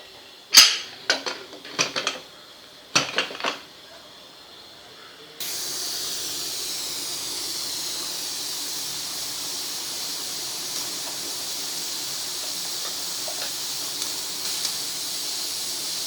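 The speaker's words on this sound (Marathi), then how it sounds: "आता आपण याला झाकण लावूया आणि 2 शिट्ट्या करून घेऊया." A pressure cooker cooking pea and potato curry releases a steady, loud hiss of escaping steam that runs for about ten seconds, after a few short clattering knocks at the start.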